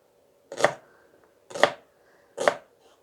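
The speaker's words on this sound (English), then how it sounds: "you want to just slice down again, making sure your fingers are bent, and slice down." A knife slices down through an onion onto a cutting board, three crisp, evenly spaced chops about a second apart, close and clear against a quiet kitchen background.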